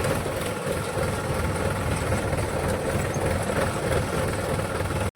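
A farm tractor's engine drones steadily, a dense low rumble that holds constant throughout with no talk and cuts off abruptly at the very end.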